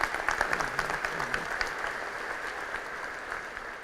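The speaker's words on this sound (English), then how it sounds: "Give her another round of applause, would you please?" An audience at a Class of 2018 commencement address applauds steadily, a dense even wash of many hands clapping that fades slowly over a few seconds, with no voices over it.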